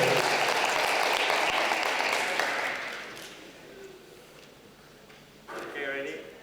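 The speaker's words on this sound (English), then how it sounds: "A round of applause for Hana" An audience applauds a contestant at an international school literacy celebration in northern Japan, loud full clapping that tapers off after about three seconds, followed by quieter room sounds and a brief voice.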